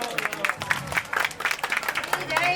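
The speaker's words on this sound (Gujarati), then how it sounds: "આપણે એકવાર જોરદાર તાળીઓથી આ મજલેશભાઈને વધાવો" Applause from an audience at a Ram Katha religious gathering, scattered uneven clapping with irregular bursts, mixed with some voices and background sounds.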